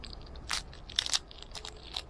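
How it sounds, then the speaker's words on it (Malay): A crunchy fried spiral curry puff (karipap pusing) is bitten, giving several sharp, crisp crackling crunches close to the mic in quick succession, with no voices. "So memang rangut, korang boleh dengar"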